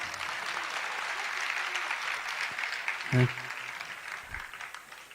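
Audience applause during a Jain religious discourse in Jabalpur, a steady broadband wash of many hands clapping throughout, fairly even in level with a brief louder thump near the end.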